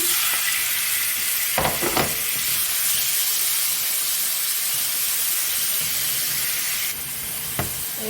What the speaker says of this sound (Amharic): አሁን ዶሮውን እጠብሳለሁ